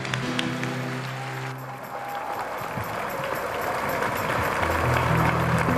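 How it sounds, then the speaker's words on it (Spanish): Applause for the Virgin of Guadalupe at a Catholic religious gathering: a steady wash of clapping from a congregation, mixed with sustained tones and murmuring, moderately loud throughout. "Fuerte el aplauso a la Virgen de Guadalupe"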